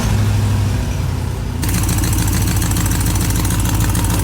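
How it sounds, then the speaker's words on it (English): An LS-swapped Camaro V8 cranks and fires up, the steady whir of the starter giving way abruptly to a loud, close, lumpy idle that keeps running evenly to the end. "So let's fire it up, see if it leaks. Ignition, fuel pump, fuel injectors, and crank it."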